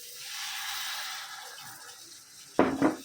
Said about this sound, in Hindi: अभी इसमें थोड़ा पानी डालेंगे